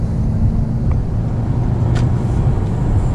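A Toyota Camry XSE V6 in sport mode accelerates, a loud, steady broadband engine and road roar heard from inside the car, with no one talking.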